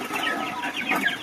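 Backyard chickens clucking in a steady, busy flock chorus, close and moderately loud, with overlapping calls throughout and no talk.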